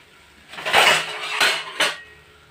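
A plate is set as a lid over Goan polle cooking in a pan, giving a few close, bright clinks and scraping clatters across about two seconds, with no voices.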